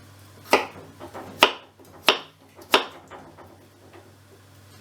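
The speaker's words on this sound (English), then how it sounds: "I'm going to chop it up a little bit more" A knife chops food into small cubes on a board, four sharp, well-spaced strikes with fainter taps between them, close and clear with no talking.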